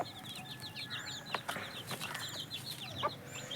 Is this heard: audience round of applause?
no